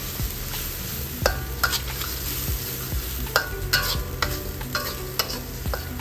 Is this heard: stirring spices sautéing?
yes